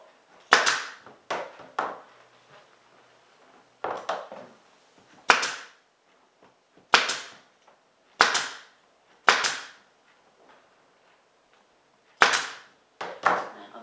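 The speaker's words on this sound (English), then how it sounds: "And then you're going to staple." A staple gun drives staples through upholstery fabric into a padded seat, about nine sharp, close snaps at uneven intervals, some in quick pairs, with quiet pauses between.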